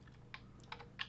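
Someone typing code on a computer keyboard, a few light scattered keystrokes with soft clicks, close but faint against a low background hum, no talking.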